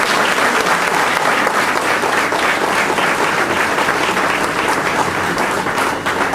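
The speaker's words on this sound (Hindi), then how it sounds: "एक बार जोरदार ताली" Loud, dense applause from an audience at a lecture in a hall, steady sustained clapping close by that fills the whole stretch without a break or any speech over it.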